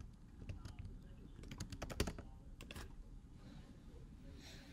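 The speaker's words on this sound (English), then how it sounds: "So in this case, I'm going to type in marketing." Soft clicking as someone types on a computer keyboard, with a short cluster of keystrokes in the middle, faint and set against low background noise.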